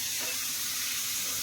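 Tempered spices in hot oil, poured into a taro and mung dal curry, give off a loud, dense, continuous hiss of sizzling and steam right up close.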